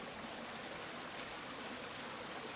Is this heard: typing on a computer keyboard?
no